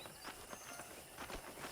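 Horse hooves clip-clop in a steady walking rhythm in the Western video game Red Dead Redemption, soft and continuous under a wash of background ambience, with no talking.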